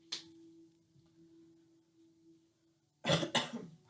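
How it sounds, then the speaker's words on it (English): After a low steady hum and a faint click, two sharp coughs burst out close by near the end. "Pardon my coughing."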